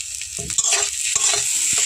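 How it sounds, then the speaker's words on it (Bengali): A potato filling for egg-stuffed parathas fries with fresh coriander leaves while a spatula scrapes and stirs it briskly, loud and close over a constant bright sizzle. "ধনে পাতা দিয়ে আবারও খুব ভালোভাবে আমি নাড়াচাড়া করে নেব"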